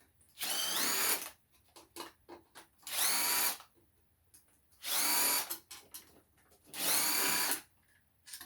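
A power tool with a 10 mm socket loosens oil pump bolts on a BMW N52 engine in four loud, close bursts of about a second each, with ratchety clicks and clatter in the pauses between.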